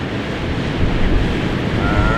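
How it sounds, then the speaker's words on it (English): Strong wind gust buffeting the microphone during a paramotor flight on a 5XS Dominator wing, a loud, steady roar of rushing air that swells slightly midway, with no talk. "Whoa, whoa, big gust"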